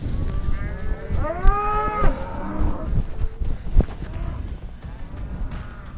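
Several loud cattle moos, drawn-out and overlapping, as cows are driven toward a gate outdoors, with a restless background of shuffling and low rumble.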